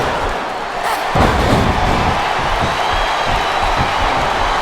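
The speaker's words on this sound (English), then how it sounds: "It Sounds like this capacity crowd has something on their minds" An arena capacity crowd in the WWE SmackDown vs Raw 2007 video game roars and cheers, a dense, loud wash of voices that swells after a thud and holds steady, with a commentator's voice faintly beneath.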